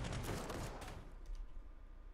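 Gunfire bursts from units trading fire in the Panzer Corps 2 strategy game, heaviest in the first second as a dense crackling volley, then thinning into scattered rumbling shots that carry on steadily to the end.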